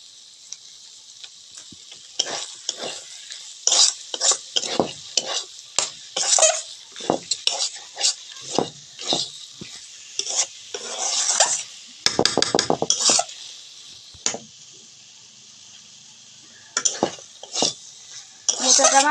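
A spoon stirs spice masala frying in a pan for a banana-flower (mocha) dish, with repeated scraping strokes and clinks over a steady sizzle, some bursts louder and busier than others.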